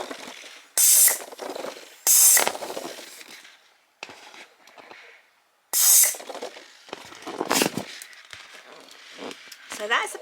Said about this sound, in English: I'm now going to transfer over to the latex inflator and just get rid of all of those lines